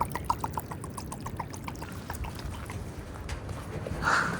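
Quite a lot of water pouring and splashing continuously at a workshop site, a steady rushing wash with faint rhythmic ticking, close and fairly loud, swelling slightly near the end.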